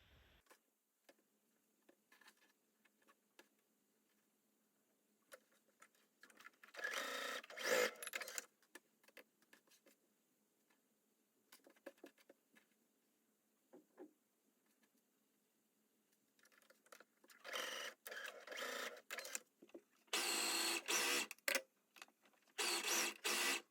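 An overlock sewing machine stitches lingerie pieces in short bursts of fast, loud whirring separated by quiet pauses and small clicks of handling fabric, with no talking.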